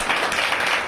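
Church congregation clapping loudly in praise during a Bible Sunday service, a brief dense burst of applause with no talk.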